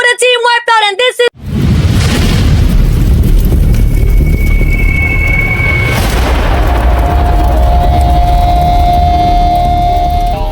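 Explosion in the mobile game Mobile Legends during an esports match, a heavy boom cutting in after a short burst of shouting, then sustained loud rumble with game tones and commentary over it.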